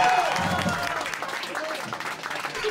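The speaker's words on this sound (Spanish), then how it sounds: "Pido un aplauso para Mex Urtiz Berea." Brief burst of audience clapping in a radio studio during a live show, mixed with talk from the hosts over the applause.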